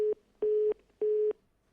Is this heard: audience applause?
no